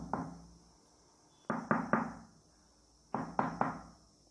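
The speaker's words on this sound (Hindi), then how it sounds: "तो कछुआ आगे जा कर के दरवाज़ा खटखटाने लगा।" Knocks on a door in a children's tortoise story: one single rap, then a group of three firm knocks, a pause, and another group of three, close and crisp with no voices over them.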